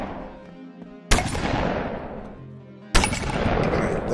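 Two loud gunshots in the BoneLab video game, each a sharp blast followed by a long decaying echo, about two seconds apart, with no talking.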